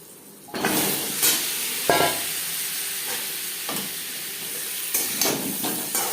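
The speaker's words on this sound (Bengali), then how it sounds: "লবণ হলুদ দিয়ে আলু ভেজে নেব" Potatoes cut into about eight pieces fry with salt and turmeric, a steady close sizzle broken by several sharp bursts of stirring and spatula scrapes across the pan.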